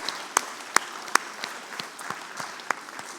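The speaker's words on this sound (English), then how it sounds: "let's give a big round of applause to our diploma students completing the second year of their bachelor degree" Audience at an HTMi graduation ceremony clapping for diploma students, a thin patter of applause in a large hall with a few sharp, distinct claps standing out near the front.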